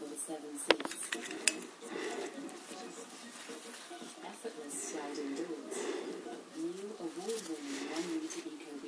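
A pet bird calls with soft cooing and warbling notes amid clinking dishes and cutlery, while a person talks to it over the sounds.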